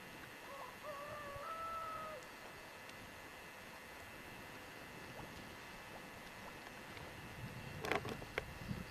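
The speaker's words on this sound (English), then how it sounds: "You can hear cats fighting and roosters crowing this morning." A faint rooster crows once in the distance over a steady low background hum, followed later by a few soft clattering noises, outdoors in the morning near a Croatian shoreline.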